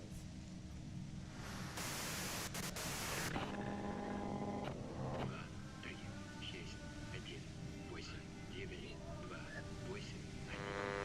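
A radio hissing with white noise in the video game Disco Elysium: a harsh burst of loud static, then a softer crackling, staticky hiss with faint tonal warbles and a low hum beneath.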